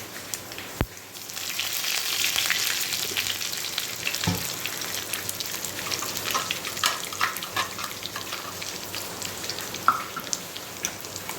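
Curry leaves dropped into hot oil for a Solapur-style chili dish, crackling and sizzling steadily with sharp pops and spits throughout, close and fairly loud.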